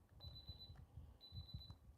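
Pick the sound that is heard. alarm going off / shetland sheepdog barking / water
alarm going off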